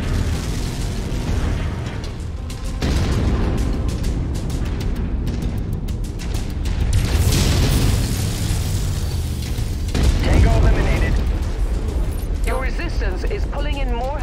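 A comms tower blows up in the MechWarrior 5 video game, heavy rumbling booms and bursts over battle noise across the stretch, with radio-style voices speaking at points.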